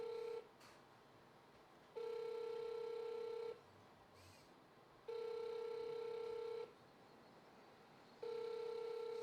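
An unanswered phone call ringing back on a Korean line: a steady, faint tone repeats four times in even pulses of about a second and a half, with quiet gaps between.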